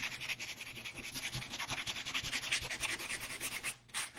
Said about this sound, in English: And the sanding actually does help